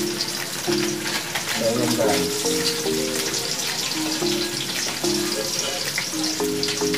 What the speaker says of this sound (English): Ma-absorb yung oil and mag-igisa rin natin itong ating chicharon.